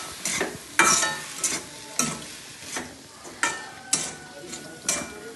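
A spatula stirs Kerala-style beef bone curry masala sizzling in a pan with cumin and fennel powder, in steady scraping strokes about every half second over a constant frying hiss, close and moderately loud.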